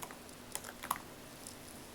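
Someone types on a computer keyboard, a faint, sparse patter of soft key clicks in a quiet room.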